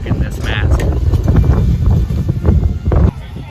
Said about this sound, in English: Oh man, it's so windy.